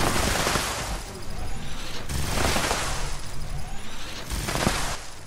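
Rapid automatic fire from a double explosive scattered plasma Gatling gun in the video game Fallout 76 makes a dense, continuous crackling stream with surging bursts of blasts.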